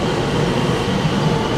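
Steady, loud interior hum of Japan's Thunderbird limited express train in motion, a continuous broadband drone resembling a Boeing 747 cabin, with faint rail rumble underneath and no voices.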